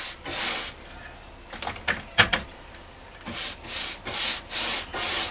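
A paintbrush spreads blue paint across a backdrop, making close, soft rhythmic swishing strokes, with a cluster of scratchy scrapes in the middle and a steady series of brushing sweeps at the end.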